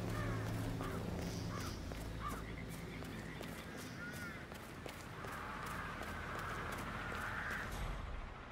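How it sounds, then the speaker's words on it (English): Crows cawing in the Hitman video game, several harsh calls over a steady outdoor ambience with faint movement, fairly quiet and without speech. "I'll never get rid of those stupid birds."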